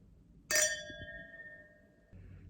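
Glasses clink together once in a toast among friends, a bright ringing strike that rings on and slowly fades, with quiet background murmur and no talking over it.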